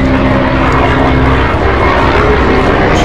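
A low-flying propeller aircraft passes close overhead on an evening street in Lazarevskoye, a loud, steady rumbling engine drone filling the clip with no voices.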